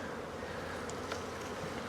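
Honey bees buzzing around an open hive during queen grafting, heard as a faint, steady, fairly distant hum with a few slightly louder passes of individual bees and no voices.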